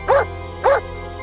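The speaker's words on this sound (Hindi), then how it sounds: "तभी मैंने कुत्ते भौंकने की आवाज सुनी।" Two sharp, evenly spaced dog barks from a cartoon dog during a rainy night scene, loud and close with a short pause between them.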